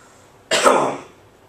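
A single sharp, throaty cough from a man at a networking meeting, loud and close, bursting out suddenly and trailing off over about half a second into quiet room tone, with no speech around it.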